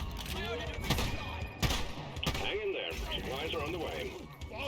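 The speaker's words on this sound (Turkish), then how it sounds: "Adam bana sıktı canım çok azaldı ya." Sporadic game gunfire in Deep Rock Galactic, scattered shots among busy in-game effects and a continuous mix of voices talking over it.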